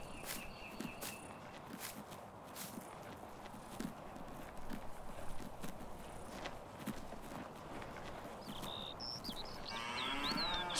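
Dairy cows in the Farming Simulator 19 game shuffle and clop over a steady background, with faint scattered lowing and footsteps, quiet and somewhat distant.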